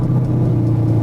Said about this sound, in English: I'm gonna give you guys a little cold start because this thing's got an exhaust from our boys over at Paragon Performance